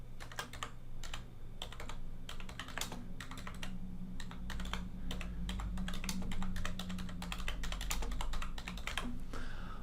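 Rapid, uneven keystrokes on a computer keyboard clatter steadily for about ten seconds at close range, with a low hum underneath and no talking.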